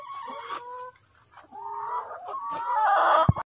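Lohmann Brown laying hens clucking in a coop with a freely opened door, steady overlapping clucks and calls at close range, ending with a sharp knock.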